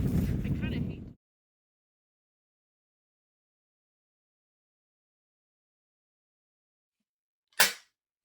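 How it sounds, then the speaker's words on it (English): A single sharp, loud report from a vintage J.P. Sauer and Sons side-by-side shotgun fired at a fox while hunting, coming alone after a brief burst of wind noise and a long stretch of near silence. "A fox. Shooting a fox."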